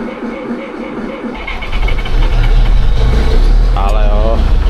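A tractor engine with no glow plugs cranks and then fires into a loud, rough diesel rumble that stays steady to the end.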